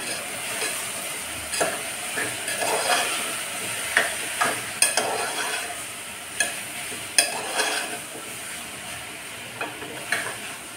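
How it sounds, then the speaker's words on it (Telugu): A spoon scrapes and clanks in a pan as a salted potato curry is stirred, with a soft sizzle underneath and irregular knocks. "ఒకసారి కలుపుకుందాం"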